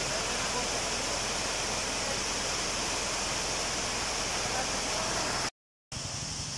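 Takot Falls in Didipio roars as a loud, close, continuous rush of falling water that fills the whole scene, with a short silent break near the end.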